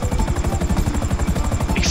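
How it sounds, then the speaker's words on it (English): A helicopter in GTA 5 Online thumps with fast, steady rotor beats, loud and close, its engine whine running continuously under the pulsing blades. "I'm very bad at parking helicopters."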